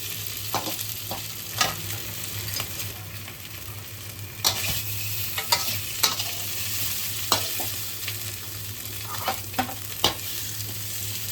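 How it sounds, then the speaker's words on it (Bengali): Potatoes fry in oil until reddish-brown, a steady close sizzle broken by repeated sharp scrapes and clacks of stirring at irregular intervals, with no talking. "আলুটাকে কিন্তু একটু লাল লাল করে ভাজতে হবে। আলুটা ভাজাটা যত ভালো হবে তরকারিটা খেতে কিন্তু তত ভালো হয়।"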